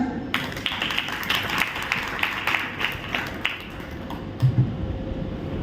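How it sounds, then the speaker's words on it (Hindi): Applause from members gathered at an Inner Wheel Club of Ghaziabad Golf Link district event, a moderate burst of mixed clapping that rises quickly, holds for several seconds and then tapers off. "आप सबके लिए तालियां।"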